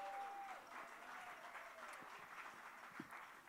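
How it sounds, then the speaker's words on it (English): An audience at a benefit concert for immigrants at the Grey Eagle applauds steadily. The clapping is dense and sustained, with a faint whistling tone and a few voices mixed in. "I don't want to interrupt your clapping. Clap for them."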